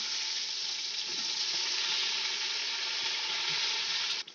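Onion frying in hot oil with garlic and green chili, a dense, loud, continuous sizzle held steady close by, cutting off abruptly at the end.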